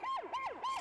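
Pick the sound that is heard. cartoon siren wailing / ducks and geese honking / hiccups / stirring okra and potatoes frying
cartoon siren wailing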